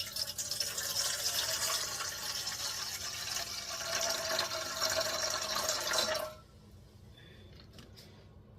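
Water pours steadily in a continuous splashing stream for several seconds, then abruptly stops, leaving near silence with a few faint drips.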